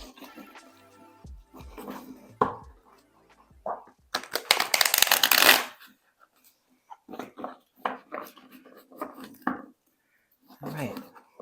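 Tarot cards being shuffled by hand in a quiet room, giving soft riffling bursts with a loud sustained flurry in the middle, broken up by someone talking before and after.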